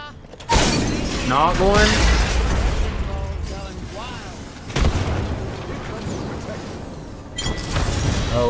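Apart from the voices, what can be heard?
frag grenade explosion in a video game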